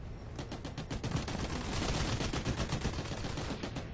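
Rapid automatic assault-weapon gunfire in the Special Forces Team X video game, dense overlapping bursts of shots rattling continuously at close range and fairly loud throughout, with no voices.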